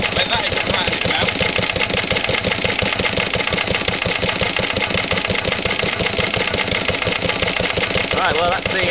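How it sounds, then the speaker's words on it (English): An old Lister LD1 diesel engine runs loud and steady, its rapid chugging beat holding evenly from start to finish with no voices over it. "that's the longest run the old diesel's had with me so far"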